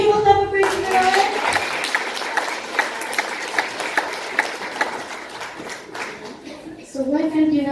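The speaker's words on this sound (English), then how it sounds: "Shall we give a clap of praise to the Lord?" Church congregation giving a clap of praise to the Lord, a burst of many hands clapping with rhythmic accents, preceded and followed by a speaking voice.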